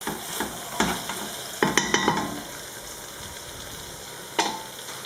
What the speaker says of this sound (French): Je vais porter sur le feu, je vais laisser revenir.